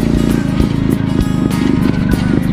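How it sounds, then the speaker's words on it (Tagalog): A 25-year-old motorcycle runs close by, its engine putting out a loud, steady throbbing drone with rhythmic pulsing and no voices over it. "Gamit ko yung lumang motor namin, yung unang pundar ni Tatay Kabida"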